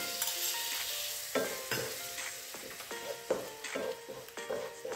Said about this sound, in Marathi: याला छान असं थोडंसं फ्राय करून घ्यायचं आहे.